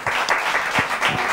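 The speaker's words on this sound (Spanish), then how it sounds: "Muy bien, aplauso también para ella, por favor." Studio audience on a Spanish TV show applauds an elderly woman, steady dense clapping filling the short moment with no talk over it.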